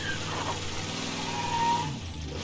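A customised car engine in the video game Mafia 3 hums and revs steadily and fairly loudly, its tone shifting slightly as the car moves, then easing off near the end.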